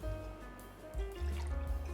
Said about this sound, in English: Pour 1 ounce of our sweet vermouth.